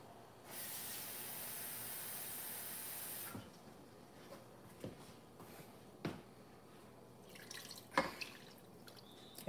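Water poured into a pot of goat tripe and sorrel: a steady loud gush for a few seconds, then quieter drips, splashes and clinks of the pot as it settles.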